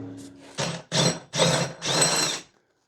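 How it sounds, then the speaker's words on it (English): Four close, loud bursts of ratcheting or power-tool whirring come as two large bolts on a BMW E46 differential are released, each burst slightly longer than the one before, ending in silence. "Now we can release the 2 big bolts."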